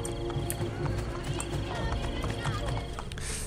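A horse galloping in the Assassin's Creed Brotherhood video game, rhythmic hoof beats running steadily under a continuous game soundscape of low rumble and ambient noise.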